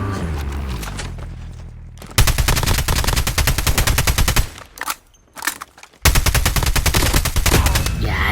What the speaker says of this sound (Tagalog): Talaga naman baril na baril itong mga to.